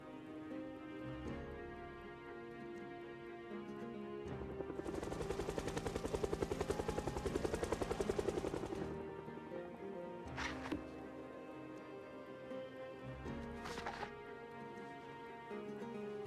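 A helicopter event in the survival game Project Zomboid, with a loud rotor-like thudding burst that swells and holds for a few seconds amid background game music and tones, followed by a few sharper isolated bursts.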